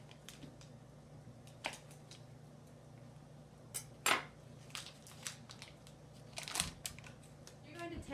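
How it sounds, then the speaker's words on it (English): A knife cuts butter into small pieces and drops them into a casserole dish for a blackberry cobbler, giving scattered soft clicks, taps and clinks against the dish over a low hum. "we're going to cut up the butter into smaller pieces so that way it melts faster, and then place it into the casserole dish"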